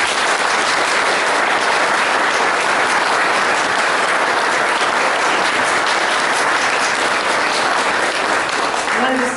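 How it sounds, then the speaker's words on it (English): Audience at a Tulsa County Sheriff candidates' debate breaking into a long, dense round of applause that holds steady and loud throughout. "Let's give them a round of applause."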